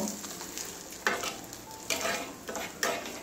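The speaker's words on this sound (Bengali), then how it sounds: "দেখুন এভাবে প্রত্যেকটা ইয়েতে পরোটা এভাবে ভেজে নেব" Paratha for an egg and soyabean roll frying in a pan, a steady sizzle broken by several louder bursts as it is pressed and moved, close by, with no voices.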